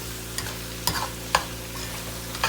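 Vegetables with garlic and ginger sautéing in a pot for curry oxtails, a low steady sizzle broken by a few sharp scrapes and stirs.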